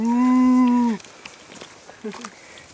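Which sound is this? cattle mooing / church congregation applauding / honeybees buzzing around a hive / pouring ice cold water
cattle mooing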